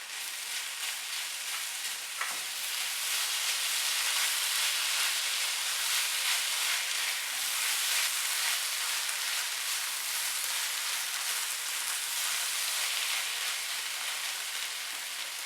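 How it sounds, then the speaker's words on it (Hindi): A khoya filling mixed with walnuts, coconut and other nuts sizzles and hisses steadily in a hot pan on the stove, with faint scraping from stirring and no speech. "खोए को मैंने मिक्स कर लिया है"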